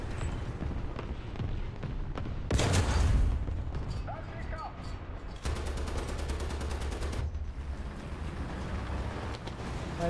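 Machine gun fire in the tank game War Thunder, from a Pvkv m/43 (1963) tank destroyer on the Alaska map: dense rapid bursts of gunfire, loud and close, in two sustained stretches over a continuous rumbling engine and battle din.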